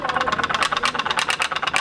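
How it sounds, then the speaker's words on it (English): Small putt-putt steam boats with engines made from recycled aluminium putter in a rapid, steady knocking rhythm, close and fairly loud, with a tinny rattling edge. "These middle school students are testing out their putt-putt boats."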